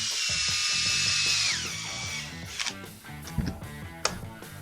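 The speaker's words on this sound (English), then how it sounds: "we're going to put this screw back in on this side and set the brake." A power driver whirs steadily as a screw is run back into the brake handle of a chainsaw, then winds down into a few clicks and light metallic taps, close and fairly loud with no talking.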